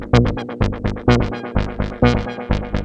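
Synth notes plucked in a steady rhythm in Ableton, each with a bright filter envelope sweep that opens sharply and then closes, about two notes per second, loud and alone.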